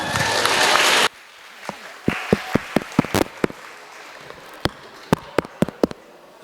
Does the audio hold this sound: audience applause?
yes